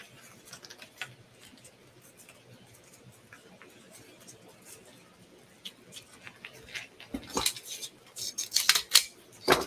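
Scissors snip ribbon ends while a homecoming ring mum is being assembled, giving a run of sharp, close clicks and rustles near the end after a quieter stretch of faint handling noise.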